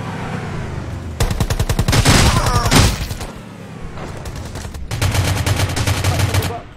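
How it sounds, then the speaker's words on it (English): Rapid automatic gunfire in the Rules of Survival battle royale game, several sustained bursts of fast repeated shots with brief lulls between them, loud and close. "Gunshot."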